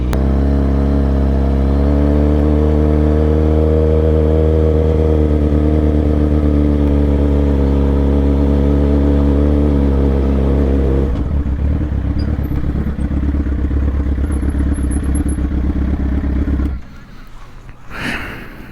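Motorcycle doing hard first-gear pulls on a street ride, heard loud and close from the rider's position: a strong, droning engine note climbs and holds for about eleven seconds, then turns to rougher, wind-buffeted running before dropping away near the end.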